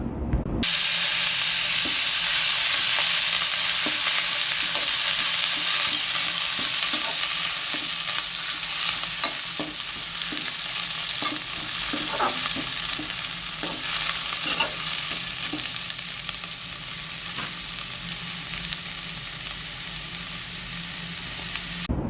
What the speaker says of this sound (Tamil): இப்போ அடுத்ததாக நம்ம கருவேப்பிலை இதில் ஆட் பண்ணி அதையும் வதக்குவோம்